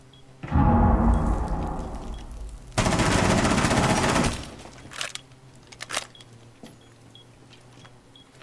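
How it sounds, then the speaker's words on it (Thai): Two long bursts of rapid automatic gunfire from a gun in Rainbow Six Siege, loud and close, separated by a short gap and followed by a few sharp isolated shots and faint clatter. "อยากลองยิงให้ดูอยู่นะ"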